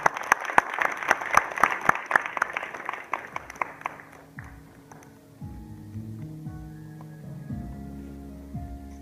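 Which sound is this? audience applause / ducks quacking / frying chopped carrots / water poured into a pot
audience applause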